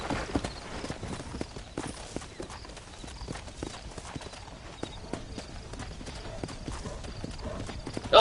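A horse in the Red Dead Redemption video game clip-clops steadily at a walk through the woods for several seconds. It snorts and whinnies now and then, and a voice is faintly present under the hooves.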